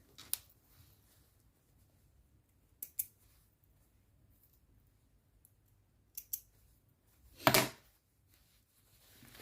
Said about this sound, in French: je sors mon fil, hop, je coupe tout ce qui dépasse